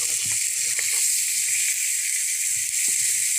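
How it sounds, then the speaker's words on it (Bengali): A steady, bright sizzling hiss of small fish coated in turmeric and salt frying in hot oil runs throughout, with faint low knocks and clicks underneath. "একটু বড় মাছের মতনই ভেজে নেব সুন্দর করে হলদি আর লবণ দিয়েই"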